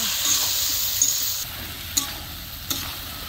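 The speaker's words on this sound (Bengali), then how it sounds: "কচু এখন মশলার সাথে ভালো করে মিক্স করে নিব" Taro pieces are stir-fried into a sizzling spice masala, a steady hiss of frying with a few sharp clinks of a utensil against the pan.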